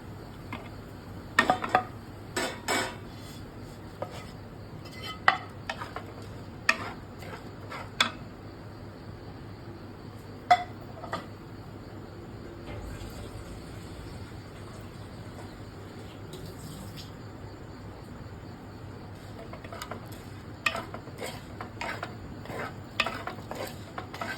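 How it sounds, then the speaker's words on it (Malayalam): A spice mix is stirred into a clay pot of cooked gooseberries, intermittent scraping and knocking strokes against a quiet background hum, with sparse bird or insect calls faintly behind. "നെല്ലിക്ക വേവിച്ച് വെച്ചിട്ടുണ്ട്, അതിനകത്തേക്ക് ഈ മിക്സ് ഇടുകയാണ്."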